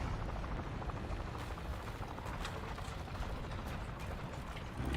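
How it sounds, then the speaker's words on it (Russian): An enemy helicopter in a winter combat video game flies past as a steady rotor drone with faint mechanical rattling, moderately distant and alone without talk. "не наш вертолет"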